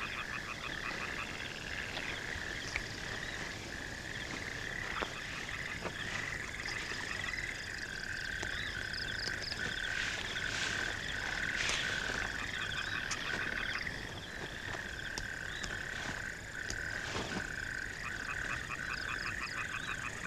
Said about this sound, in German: Ich habe die Frösche drinnen.